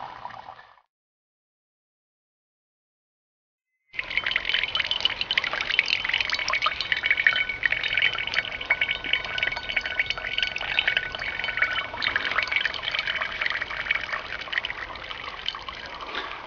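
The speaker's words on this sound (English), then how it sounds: "This is the water that's coming out of the slow sand filter that filters roof water." Filtered roof rainwater runs steadily out of a slow sand filter, a continuous close trickle and splash that begins after a short silence and keeps a constant level.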